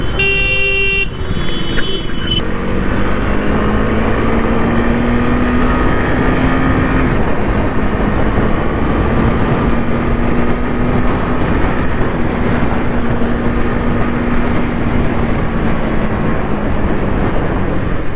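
KTM Duke 250 motorcycle engine while riding, a steady droning hum with a slowly rising and falling pitch under constant wind roar, close and loud throughout, with a brief horn-like tone at the start.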